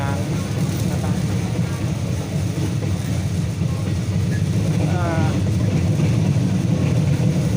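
Steady rumble of a Thai passenger train on the Ban Laem line toward Mae Klong, running continuously and close, with faint voices mixed into the constant rolling noise.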